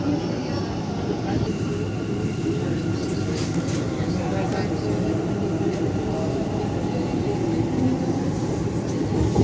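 A Bengaluru Green Line metro train arrives at a station as another Green Line train departs, producing a steady, loud rumble and roar that carries on without a break. Faint voices can be heard under the train noise.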